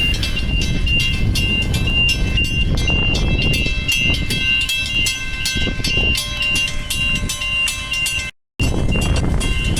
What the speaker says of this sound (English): All the cars waiting for this little freight locomotive to come through